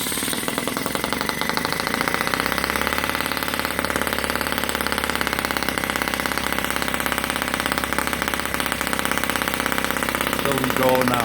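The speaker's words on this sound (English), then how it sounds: "start the engine." A tiny OKMO 1.6cc four-stroke gasoline engine fitted in a self-made brass Deutz 122 F model tractor runs close and loud with a fast, steady buzzing putter that holds throughout.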